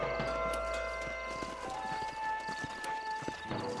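Horse hooves clip-clop at a steady walking pace in the video game Red Dead Redemption on Xbox One S, moderately close, over a low background hum with faint tonal music.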